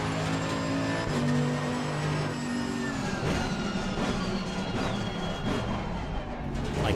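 Racing car engine in Assetto Corsa Competizione, a sustained loud drone with rising and falling pitch through shifts, close and continuous for the whole stretch, with no voices over it.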